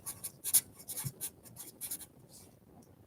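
A pen sketches a graph on paper during a maths lesson, with close, quiet scratchy strokes in short irregular bursts and brief pauses between lines.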